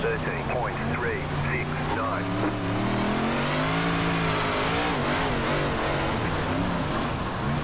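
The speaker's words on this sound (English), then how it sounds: "Car coming out of the pits." A big block modified race car roars around the dirt track at Kokomo Speedway in iRacing, its engine loud and continuous with revving pitch swells, under a voice talking.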